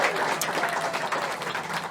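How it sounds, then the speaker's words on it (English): An audience applauds an improv comedy team, a dense, steady wash of clapping that holds at an even level for about two seconds with no break. "How about a big round of applause for our Improv Comedy team?"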